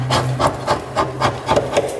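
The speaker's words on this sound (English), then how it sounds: "that scraper's actually working really, really good" A hand scraper rasps rhythmically across a Honda AWD viscous coupler, removing residue in short repeated strokes, about four per second, close and alone with no talk.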